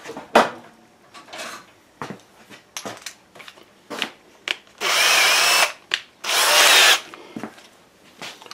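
A power drill boring a 7.5 hole through sycamore wood, two long loud bursts of whining drilling between scattered knocks and handling clatter in a quiet workshop.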